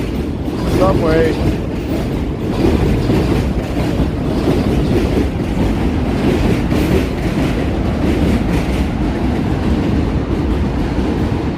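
A New York City subway train roars past nearby, a dense steady rattle and rumble of wheels on track filling the whole stretch, with faint squeals near the start and a few voices in the background.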